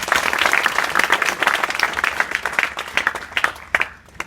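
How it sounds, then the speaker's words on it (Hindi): Students at an intermediate college event clap together in a dense round of applause that gradually thins into scattered claps, with faint voices underneath. "पहले तो इनके लिए ताली बजाओ।"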